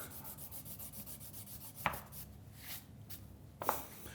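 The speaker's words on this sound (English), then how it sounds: "I'm going to apply the compound pretty liberally to the scrap leather here." Rubbing compound onto a scrap of leather with a soft, continuous scrubbing texture throughout, close and fairly quiet, with two sharper taps or knocks partway through.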